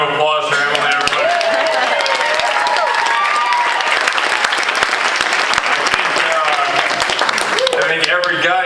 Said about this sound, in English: Round of applause for Emily, everybody.